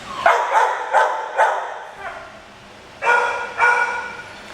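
Dogs bark at an animal shelter among clean kennel cages, a run of four sharp barks followed by a softer one and then two more, close and loud, with a voice speaking faintly between them.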